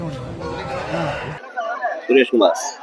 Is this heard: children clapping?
no